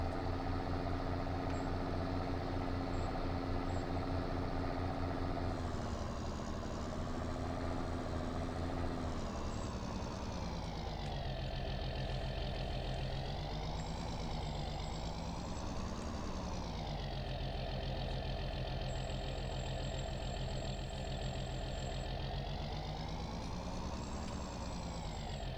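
A farm tractor engine in Farming Simulator 19 drones steadily throughout, its pitch rising and falling in slow waves as it revs up and eases off, loud and close with no voices.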